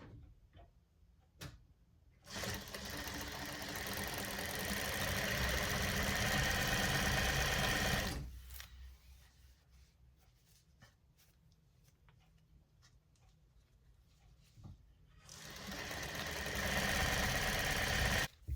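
Electric sewing machine stitching the top of a footstool cushion, running in two loud steady bursts of several seconds each, with a quieter pause between them.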